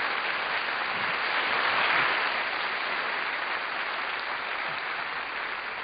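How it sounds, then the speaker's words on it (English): Sustained applause from a seated theatre audience, dense and steady for several seconds as a volunteer named Emma is welcomed toward the stage, with no voices over it. "Round of applause for Emma."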